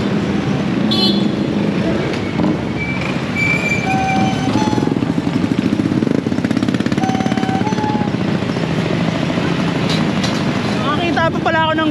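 An old-style police motorcycle engine throbs with a loud, rapid, steady pulse amid street traffic, with people talking over it and a few short toots.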